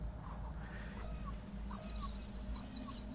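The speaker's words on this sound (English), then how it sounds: "And birds start chirping for some reason." Wild birds calling outdoors near a campfire, a run of high chirps and crow-like caws over a steady low rumble, moderately distant and continuous, with no talk.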